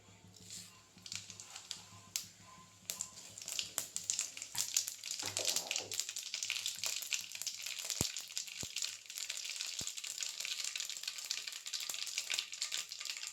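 Mustard seeds and cumin crackle and sizzle in hot oil, with a steady hiss and scattered sharp pops, and a few clinks of a spoon partway through.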